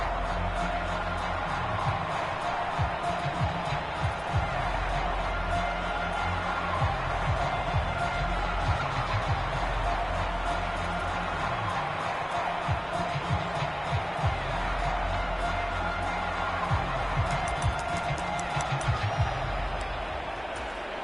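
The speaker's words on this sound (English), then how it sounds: "this crowd trying to force a false start here" Stadium crowd at a football game in an EA Sports video game, a steady loud roar with low rumbling swells running through the whole stretch.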